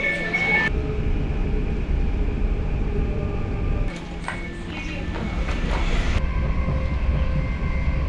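Elizabeth Line train at Brentwood station platform, a loud continuous rumble and rolling rail noise close by, with a brief shift midway and high squeals and clatter over the steady roar.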